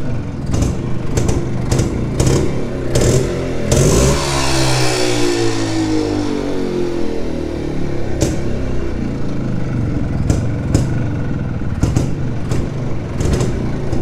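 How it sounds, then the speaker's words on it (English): A vintage two-stroke Jawa motorcycle is kicked over a few times with sharp clacks, then its engine catches and runs loud and close with a buzzy revving rise, followed by more clacking knocks. "So this is how you start a Jawa or Yezdi and this method can be applied for all the two-stroke Jawas and Yezdis."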